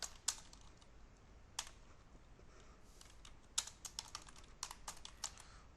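Keys clatter on a computer keyboard while text is entered into Lectra Modaris pattern-making CAD software, coming as quiet, scattered clicks and then faster bursts of typing, close and with no talk.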